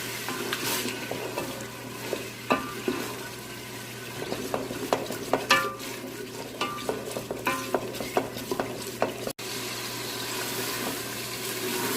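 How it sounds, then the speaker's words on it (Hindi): Ginger frying in a pan for a bottle gourd curry, a steady close sizzle with scattered clinks and scrapes of stirring, then a brief cut near the end before the frying continues alone. "एक से 2 मिनट अदरक को भून लिया"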